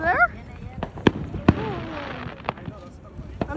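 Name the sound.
July 4th fireworks exploding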